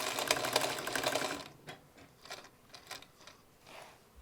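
A Singer 177-2 darning sewing machine stitching back and forth, a fast rattling burst of stitches followed by quieter, intermittent mechanical clicks and whirs, close by.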